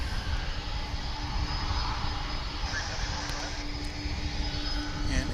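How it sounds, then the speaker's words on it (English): A UPS MD-11 jet taxiing at DFW International Airport, heard from a distance as a steady high-pitched turbine whine over a broad, even engine rumble. "That is the UPS MD-11 on its way"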